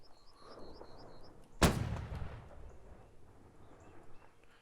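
A cannon booms once in the Holdfast naval-warfare game, a single sharp blast that rolls off into a rumbling tail over steady battle ambience, with faint distant whistles early on.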